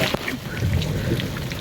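Rain mixed with small hailstones pelting down outdoors near a mountain temple in heavy weather, a dense steady wash of patter filling the whole stretch with no voices.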